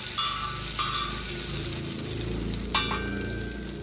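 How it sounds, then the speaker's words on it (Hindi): A fried onion tempering (baghar) hits hot pachmel dal with a loud hiss, settling into a steady sizzle with a couple of sharp crackling bursts. "अब मैं जो है ये सारा बघार उठा के दाल में डाल दूंगी।"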